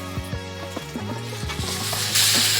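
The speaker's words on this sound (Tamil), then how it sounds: "இப்போ நான் வந்து தக்காளி ஆட் பண்ணிக்கிறேன்" Tomatoes going into a pan of golden-brown fried onions for Hyderabadi chicken biryani, with a steady close sizzle that swells louder and brighter near the end amid scraping and stirring clinks.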